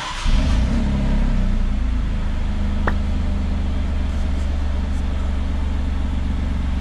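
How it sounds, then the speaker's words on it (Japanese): An Alfa Romeo Giulia Quadrifoglio, a 510 hp rear-drive sports sedan, starts up: the engine catches with a brief swell and then settles into a loud, steady, fairly subdued idle rumble close by. "せっかく乗ったんだからもう先に触りだけエンジンかけてみてください"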